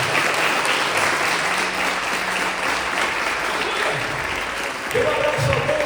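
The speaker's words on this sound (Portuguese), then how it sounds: "você pode aplaudir o Senhor Jesus por essa noite" A church congregation at a Sunday Baptist service applauds loudly and continuously, a dense wash of clapping with voices mixed in.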